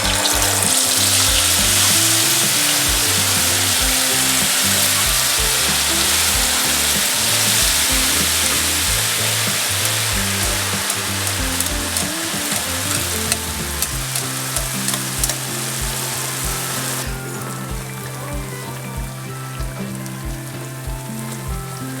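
Poode, Himachali sweet pancakes, fry in hot ghee on a griddle with a steady, dense sizzle throughout. It is loud for most of the clip and eases slightly near the end, with a low tonal background and no talking.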